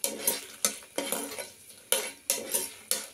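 A utensil stirs red chillies roasting in a hot pan, giving repeated scraping strokes about every half second. Each stroke is loud and close, with a faint sizzle underneath and no voices.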